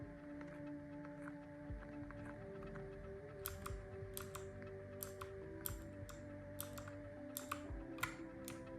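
Keys clack on a cheap mechanical keyboard, a faint, irregular run of crisp clicks over a low, steady tonal background.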